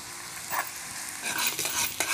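Onions fry in a pan while a spoon stirs them toward golden brown, a soft sizzle broken by several scraping stirs and clatters, fairly quiet with no talk.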